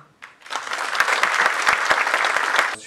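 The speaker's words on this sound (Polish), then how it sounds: "Brawa." Audience at a jubilee benefit celebration breaking into dense, steady applause after a single sharp clap, the clapping swelling quickly and holding loud for a few seconds.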